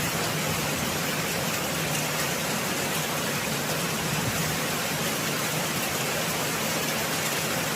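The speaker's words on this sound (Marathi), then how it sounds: "एवढा पाऊस झाला, धो धो धो धो पाऊस अजूनही चालूच आहे." Heavy monsoon rain pouring down in a dense, loud, unbroken roar of water that fills the whole space, with no voices heard.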